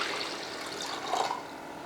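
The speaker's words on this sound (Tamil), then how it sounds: "அதை கழுவிட்டு ஒரு பாத்திரத்தில் போட்டு நல்லா ஒரு ரெண்டு செம்பளவுக்கு தண்ணி ஊற்றிக்கலாம்" Water is poured into a pot of washed sago pearls for a wedding-style vegetarian feast, giving a steady, close splashing and trickling flow for about two seconds.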